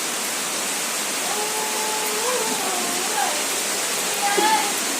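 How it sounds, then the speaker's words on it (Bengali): Heavy rain pours down steadily outside a home, a dense, constant hiss filling the air from start to finish, with faint murmuring voices and a few brief tonal sounds drifting over it. "খুব ঝমঝম করে বৃষ্টি এসে গেছে"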